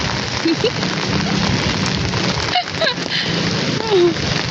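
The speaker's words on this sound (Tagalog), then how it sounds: "Ang lakas ng ulan, oh." Heavy rain pours down steadily in a loud, dense hiss, with faint voices and brief tonal sounds briefly rising above it.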